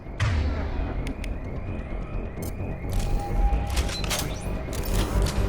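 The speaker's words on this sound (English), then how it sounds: "Use the grenade launcher to take them out" A grenade launcher fires at mechs in Mass Effect 2, with sharp booming shots and blasts punctuating a dense rumble of combat, growing busier toward the end.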